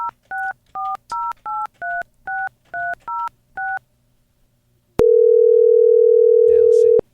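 A telephone call is dialed with a quick run of ten touch-tone beeps in a steady rhythm, followed after a short pause by a loud, continuous ringback tone lasting about two seconds; faint voices appear near the end.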